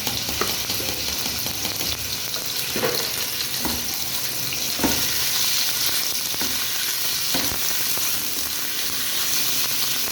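Chicken fries in cooking oil in a pan, giving off a continuous close sizzle and hiss broken by occasional spatters and stirring clatter, with no one speaking.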